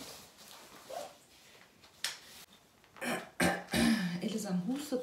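A small child coughs and clears its throat in short, rough bursts at home, the coughs close and fairly loud and mixed in with someone talking nearby.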